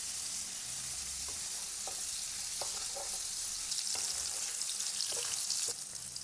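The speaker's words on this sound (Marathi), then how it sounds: "आता हे पनीर आपण फ्राय करून घेऊया." Paneer pieces fry in a pan with oil, giving a steady, loud sizzle throughout and occasional soft clicks and scrapes of stirring.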